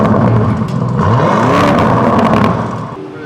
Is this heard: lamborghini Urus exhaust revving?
yes